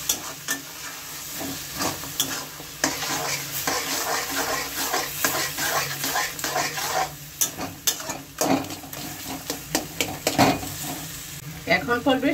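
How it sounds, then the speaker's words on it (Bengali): Crushed green chillies sizzle in hot oil as a spatula stirs them around a pan, cooking for a hilsa fish head and taro leaf dish, with continuous frying hiss and repeated scraping strokes close by. "কাঁচা লঙ্কাটা দিয়েছি, একটু ভালো করে নেড়ে চেড়ে দেবো।"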